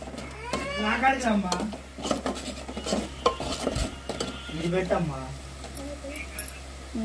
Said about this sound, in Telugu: వదినైతే ఆనియన్స్ లో పసుపు వేసి తిప్పుతుంది కదా